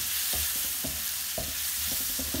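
Green chillies, coconut pieces and coriander powder dry-roasting in a hot pan for mutton biriyani, a steady sizzle broken by several scraping stirs of a spoon, close up with no voices.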